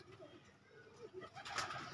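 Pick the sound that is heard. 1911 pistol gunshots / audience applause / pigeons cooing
pigeons cooing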